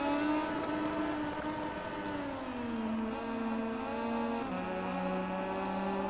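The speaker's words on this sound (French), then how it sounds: "Parce que j'entends leur moteur vrombir." Racing motorcycles in MotoGP 20 at the Assen circuit whine with a sustained, buzzy engine tone that steps down in pitch at gear changes, moderately loud and continuous.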